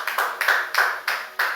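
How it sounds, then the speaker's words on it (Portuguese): Church congregation at a Pentecostal service clapping joyfully for Jesus, a clear, evenly spaced rhythm of about seven unison claps, close and crisp with no voices over them. "Exalte o seu com as palmas bem alegre para Jesus."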